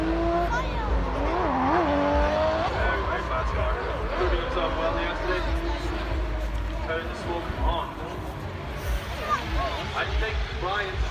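A DY-powered BM86 race car runs fast around Brands Hatch at Tuner Fest, its engine note rising and falling through gear changes with a low rumble, while a commentator talks over it.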